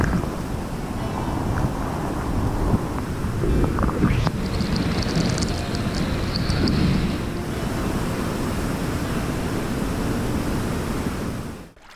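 Rushing water roars steadily around a raft passing through a waterfall, a loud broadband wash of spray and splashing, with brief faint shouts partway through.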